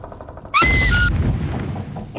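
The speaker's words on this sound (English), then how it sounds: "that was us shooting people off the dam" Gunshots from the video game Animal Company go off in a single loud, abrupt burst of game-weapon fire, close and sharp, then trail off into a rumbling decay.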